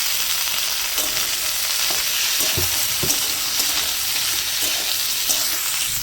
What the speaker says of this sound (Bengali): এর সঙ্গে বন্ধুরা আমি একবারে আলুটাও ভেজে নেব